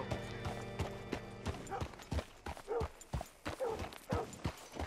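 Hooves of a horse in Red Dead Redemption 2 clop along at a steady walk, a run of moderately loud, evenly paced steps with quiet background sounds and faint music at the start.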